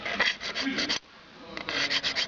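Someone scrubs dirt off café racer motorcycle parts in a workshop, making brisk repeated rubbing strokes close up, pausing briefly midway before resuming a rapid back-and-forth rasp.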